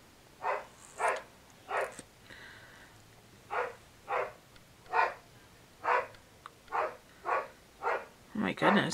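A dog barks repeatedly in a steady series of about a dozen sharp barks, fairly close, over a quiet background.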